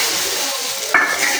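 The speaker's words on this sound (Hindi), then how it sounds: "तड़के की आवाज़ आना तो बहुत ही लाजमी होता है" Chillies and cumin hit hot oil for a home tadka, giving a steady hissing sizzle that flares into a sharper, louder crackle partway through the brief moment.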